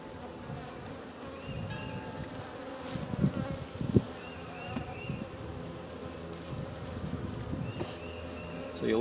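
Dense honeybee buzzing fills the air around an open hive during a first inspection, steady and close, with louder swells as individual bees pass near and a few faint knocks underneath.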